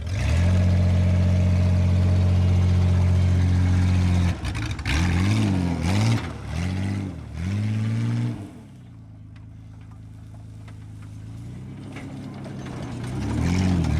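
A Ford Ranger truck engine hums steadily, then rises and falls through several revving surges as it drives, before settling into a lower, quieter idle-like drone that builds again toward the end.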